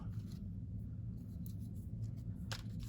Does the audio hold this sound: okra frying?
no